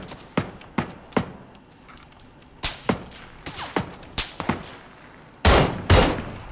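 Gunfire in the battle royale game PUBG: Battlegrounds, a string of sharp separate shots spaced irregularly and then two heavier, louder blasts near the end, all close and unaccompanied by speech.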